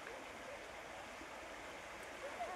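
A river flows in a steady, faint wash of rushing water that stays even throughout, with no voices.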